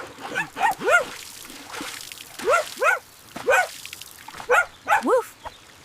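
A playful voice imitates a dog's bark, giving two pairs of short woofs, then another pair, then a final pair, each burst close and fairly loud with brief gaps between them.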